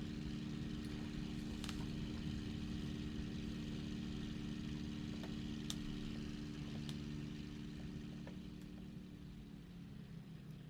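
A Supermarine Spitfire MkV engine drones steadily in Microsoft Flight Simulator, a continuous low rumbling hum with hiss, faint and constant throughout with a few light clicks and no talk.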